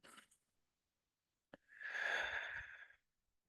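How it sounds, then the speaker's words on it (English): A deep breath in drawn at the start of a guided meditation class: a single long, close inhalation lasting about a second and a half, preceded by a brief faint breath sound, with no talking. "take a moment and take a deep breath in"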